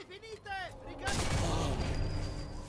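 Sniper rifle fire in Sniper Elite 4 erupts as a sharp, loud crack with a long rumbling tail after a stretch of quieter game sounds, a single close shot dominating the moment.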